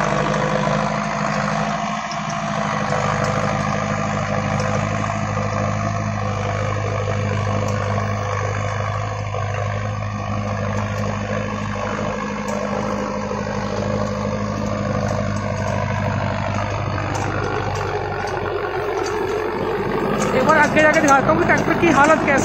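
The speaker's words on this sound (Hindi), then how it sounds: "भाई महिंद्रा का बहुत ही बेहतरीन ट्रैक्टर है।" A new Mahindra Novo 605DI non-turbo tractor hitched to an eight-foot superseeder runs at a steady, droning idle close by, its low hum continuous beneath someone talking throughout.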